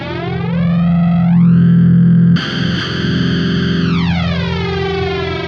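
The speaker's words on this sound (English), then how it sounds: "If we go ahead and flip this freeze switch on, you'll notice that it actually freezes at a certain pitch of that phase." A budget flanger pedal on electric guitar, with its freeze switch engaged, sweeps the tone through rising and falling comb-like harmonics, then holds at a fixed phase pitch after a fresh distorted strum, loud and alone.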